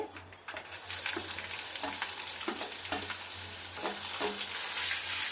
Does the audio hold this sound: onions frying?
yes